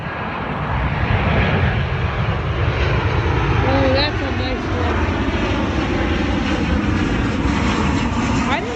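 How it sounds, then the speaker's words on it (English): Boeing 737 airliner engines at Cleveland Hopkins airport roaring steadily and loud for the whole stretch, a broad jet rumble with a faint whine, while people talk in the background. "And we have a 737 from Charlotte."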